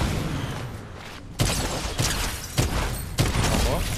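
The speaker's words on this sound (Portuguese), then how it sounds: "O outro tá atirando em mim" Gunfire from another player in a video game, sharp shots cracking at irregular intervals over a dense, noisy game background, fairly loud and close, with no clear speech.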